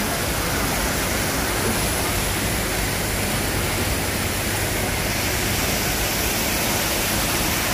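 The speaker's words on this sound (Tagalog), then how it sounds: "Ito yung falls kanina." Waterfall at a butterfly garden, a steady loud broadband rush of falling water that fills the whole stretch without a break, with no voices over it.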